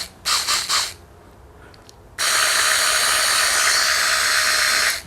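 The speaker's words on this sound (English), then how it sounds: "Well, that's a powerful little motor. A little torque on that." A small DC electric motor runs after repair, first in a few short whirring bursts, then after a pause as one loud, steady high-pitched whine held for about three seconds before cutting off.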